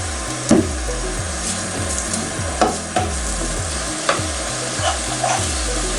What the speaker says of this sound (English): all I want to do is to sweat those vegetables a little bit